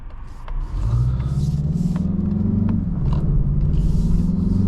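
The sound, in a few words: Mazda 3 Turbo accelerating with turbo whoosh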